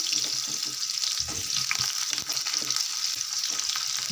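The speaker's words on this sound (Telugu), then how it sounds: "ఇంకా ఆయిల్ అయితే వేడెక్కింది ఇప్పుడు ఆనియన్స్ అయితే వేసుకుందాం సిమ్లో పెట్టుకొని వేసుకుందాం" Onions and green chillies sizzle steadily in hot oil for a punarnava leaf (thella galijeru) chutney, a close, continuous hiss broken by occasional soft stirring knocks, with no voices.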